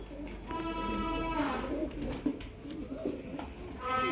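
Pigeons, young flying birds, coo in a loft with soft repeated throaty calls close by, while a voice talks faintly underneath.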